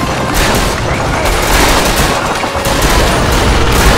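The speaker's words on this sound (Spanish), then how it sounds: "Ahí llega la artillería." Dense, loud artillery and gunfire in a Men of War battle at Verdun, a continuous roar of overlapping booms and rapid shots with no pause, with voices faintly mixed in.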